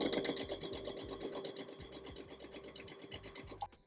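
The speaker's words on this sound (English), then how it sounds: "So then I'm gonna sew this." A sewing machine stitching a men's vest runs with a fast, even mechanical whirr of needle strokes for several seconds, then stops abruptly at the end with a brief louder click.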